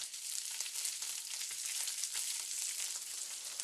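Paella rice caramelizing into socarrat at the bottom of the pan, a continuous bright frying hiss and crackle, fairly soft and even throughout, with no voices.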